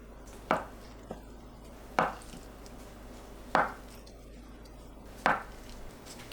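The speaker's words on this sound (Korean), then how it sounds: "두부를 1cm 간격으로 썰어 주세요." Four firm knife strokes cut through a block of tofu into 1 cm slices and hit a cutting board, each a sharp, close thud spaced about a second or more apart, with quiet kitchen background between them.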